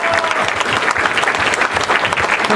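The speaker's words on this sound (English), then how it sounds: "we're going to cheer extra loud for Assad" An audience at a convention comic panel applauds loudly and steadily, a dense wash of clapping with scattered cheers throughout.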